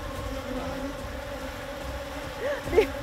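A low, steady drone of many bees buzzing close by, with a louder buzz swelling briefly near the end.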